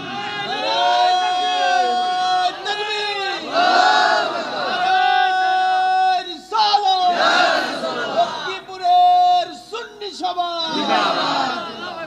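A crowd at a Bangla Islamic waz sermon chants slogans in loud, massed bursts of voices that rise and fall in waves, with brief pauses between the shouted phrases.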